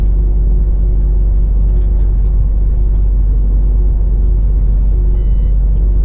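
A car speeding up again on a country road heard from inside the cabin: a loud, steady engine and road rumble that fills the whole stretch, with faint tones above it and nobody speaking.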